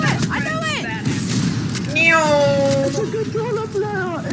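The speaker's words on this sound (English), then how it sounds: "Hey, you darn cat!" A cat meows several times, close and loud, in drawn-out rising and falling yowls, with a voice also heard alongside the calls.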